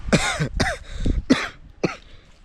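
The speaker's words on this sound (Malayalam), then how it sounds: "ചുമ" A series of about five sharp, throaty coughs in quick succession, close and fairly loud, with brief pauses between them.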